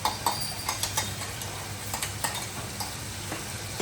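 Spinach gravy being stirred into cooking onions in a pan, a soft intermittent scraping and clinking of a spoon over a faint sizzle, moderately close and fairly quiet, with no talking.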